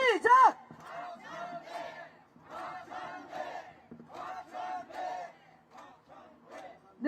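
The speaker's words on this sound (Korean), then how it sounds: "박찬대 연호 3번 시작!" A crowd at an outdoor election campaign rally in front of Chungnam National University chants a politician's name in unison. The loud, rhythmic group shouts repeat in bursts, with short pauses between them.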